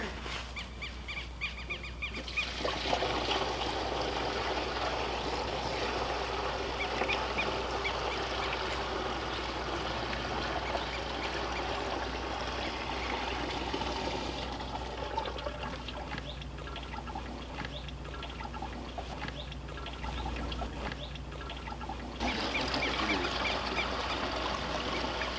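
Water is poured from a bucket into a garden sprayer pump while mixing fish fertilizer and neem oil for a vegetable garden, a long, steady, close trickling and splashing flow that varies slightly in strength throughout, with no talking.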